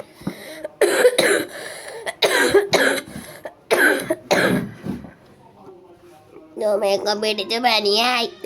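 Several sharp bursts of coughing and throat clearing from someone with a fever, loud and close, followed by a short pause and then a child's sing-song voice.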